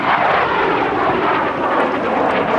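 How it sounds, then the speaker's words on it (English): An F-86 Sabre jet flies at an air show, its engine giving a loud, steady, broad roar that fills the whole moment without any talk. "take a look at the F-86 Sabre jet as Dale Snodgrass pulls up."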